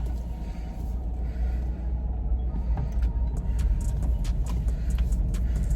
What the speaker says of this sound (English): Now let's go and make sure it drives okay. We're gonna go and drive down the road around the block